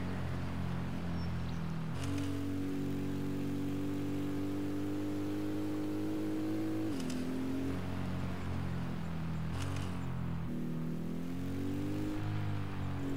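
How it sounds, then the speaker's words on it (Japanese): A motorcycle engine ridden in Ghost Recon Wildlands drones steadily at mid pitch, its tone dipping and shifting around gear changes and turns, continuous and close with no talk. "オートバイに乗る。"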